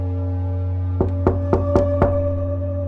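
Knocking on an apartment door, heard as five sharp raps in quick succession, close and clear over a steady low hum, with no voices.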